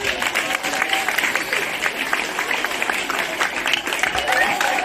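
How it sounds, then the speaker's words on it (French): Crowd at a ceremony in French-speaking surroundings applauding and cheering two honoured guests, a loud, dense wash of clapping with cheering voices throughout. "je demande d'acclamer très fort"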